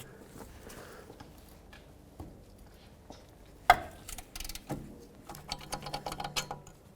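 Ratcheting and wrench clicks sound while 18mm bolts are removed from a Nissan Murano rear wheel bearing knuckle, with sparse ticks and then a sharp metallic clank followed by busier clatter of tool work.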